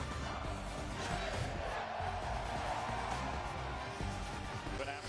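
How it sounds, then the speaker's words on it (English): Sold-out crowd at a college basketball arena in College Station for a Texas A&M home game against Iowa State, a dense continuous roar of cheering and shouting that stays loud throughout. "Atmosphere in College Station, sold out crowd for the fifth ranked Aggies at home against number 14 Iowa State."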